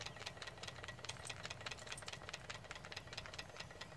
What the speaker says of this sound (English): Here we are steaming the newly completed Williamson engine on the front porch on a Saturday afternoon